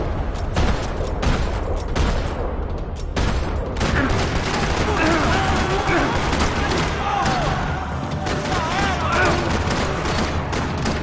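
Rapid bursts of gunfire rattle across a parking lot in the video game Max Payne 3, loud and continuous with booming shots and mechanical clatter layered over one another.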